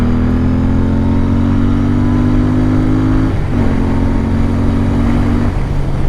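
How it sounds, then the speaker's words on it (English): A Royal Enfield Continental GT 650 motorcycle with a new Scorpion exhaust revs: steady engine drone with a rising pitch that drops briefly mid-way, then climbs again, loud and close, with no talking. "You may recognize that's a new exhaust."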